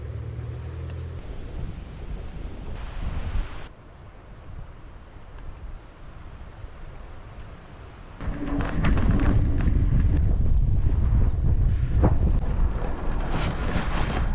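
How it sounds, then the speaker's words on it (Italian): Strong headwind buffeting a cyclist's microphone on a final climb while bikepacking in southern Sardinia, a constant roar that drops briefly, then surges louder and gustier for the last several seconds, with no talk. "Il vento che si è rinforzato a momenti mi fa pure sbandare."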